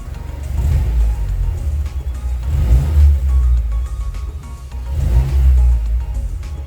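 A car with variable-valve exhaust and active sound exhaust both switched off idles and revs in a subdued, low rumble, rising in three broad swells with nobody speaking.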